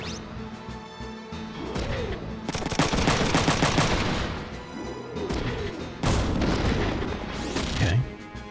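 Mech gunfire in the Front Mission 3 video game: rapid bursts of automatic shots and heavy impacts in two loud volleys, with synthetic booms and whooshing effects between them and no talking.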